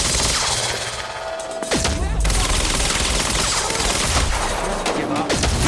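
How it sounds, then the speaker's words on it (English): Dense bursts of automatic gunfire in the Quantum Break video game fill the scene, loud and sustained volleys with brief lulls, shouting voices mixed in. "He's got a gun! Open fire!"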